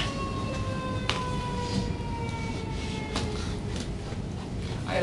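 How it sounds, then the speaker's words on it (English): An emergency vehicle siren wails steadily in the distance, its tone sliding slowly, over a constant broadband rumble of traffic or wind. "In case you haven't heard sirens before,"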